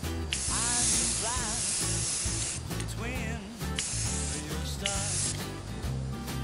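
An aerosol spray can hisses in light, continuous bursts across leaves being painted for a jungle terrain model, close and steady with brief pauses between passes.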